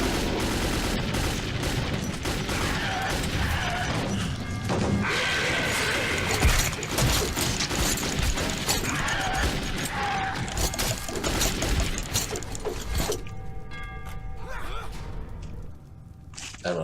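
Sustained automatic gunfire from Metro 2033 rattles loudly and densely for most of the stretch, mixed with crashing impacts, before cutting off near the end to quieter background noise.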